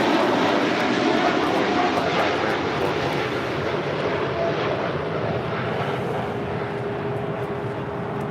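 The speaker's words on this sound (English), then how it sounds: "This is Cargolux, Flight 43 X-ray, taking off to Luxembourg on a 747-8 freighter." Boeing 747-8 freighter operated by Cargolux taking off, a loud, continuous roar of jet engines with a steady broadband rush and a faint whine, holding strong throughout.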